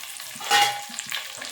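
Whole garlic cloves and small shallots drop into hot oil in a frying pan for a Tamil sundakkai kuzhambu, raising a loud sizzle that settles into steady frying crackle over a second and a half.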